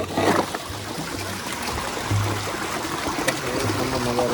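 Water runs steadily into a storage tank, a close, continuous trickling and splashing rush with a low hum beneath it and no talk.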